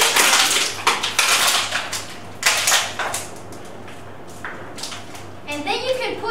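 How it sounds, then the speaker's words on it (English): Rinsed plastic bottles squeezed and crushed for recycling give a run of crackling, crinkly bursts close to the mic, with a brief voice near the end. "You have to rinse them and then you have to squeeze them"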